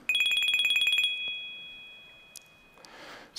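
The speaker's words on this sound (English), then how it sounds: "some of the sounds that are on your watch today, like the notification and the watch ringtone" A smartwatch ringtone of quick, bright, evenly pulsed chimes that rings for about a second, then a lingering tone fades into near silence.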